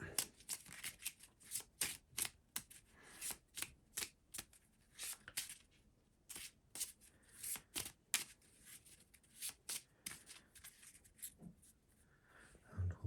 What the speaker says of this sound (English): let's just shuffle a bit more